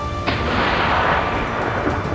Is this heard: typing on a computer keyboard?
no